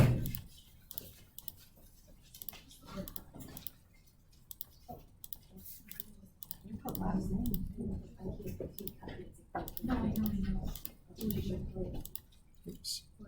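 Calculator buttons are tapped in quick bursts of small plastic clicks as data is keyed in, with a person talking quietly in between.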